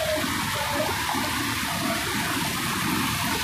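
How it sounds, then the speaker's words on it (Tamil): Flooded river water in the Nilgiris hill forest of the Western Ghats rushes and churns continuously, a dense roaring wash with no pauses, loud and close. "தண்ணி வந்து பயங்கரமாக ஆர்ப்பரித்து ஓடிட்டுருக்கு."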